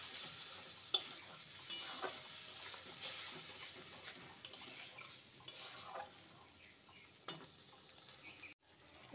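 Spices with a quarter spoon of turmeric powder being stir-fried in a pan, a steady close sizzle broken by repeated scraping and clinking strokes of a spoon against the metal, with no talking.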